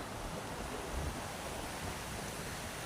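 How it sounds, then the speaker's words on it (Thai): Water rushes steadily along a roadside canal next to a railway line in a Thai village, a faint, even hiss of flowing water with no voices. "น้ำไหลสวยงามมาก"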